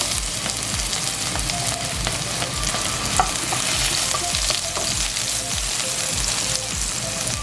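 Garlic sautéing in hot cooking oil in a pan, a loud, steady sizzle with repeated scraping and stirring strokes throughout.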